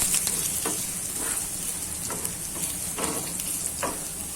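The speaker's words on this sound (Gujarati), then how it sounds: "હવે આપણે હિંગ નાખી દેશું. ત્યારબાદ આપણે આદુ લીધું છે અડધો ઇંચ, એ નાખી દઈશું. અને એકદમ સાતળી લેવાની છે" Asafoetida and half an inch of ginger sautéing in a pan of hot oil, a steady close sizzle and crackle with soft stirring scrapes coming and going throughout.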